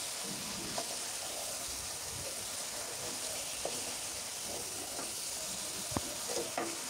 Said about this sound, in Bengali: এই তো সবগুলো লাউ দিয়ে দিলাম। এখন উপর নিচ করে নেড়ে নিচ্ছি।